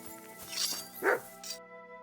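A dog in the medieval video game Kingdom Come: Deliverance 2 lets out a few short yips and barks over a quiet background of game ambience.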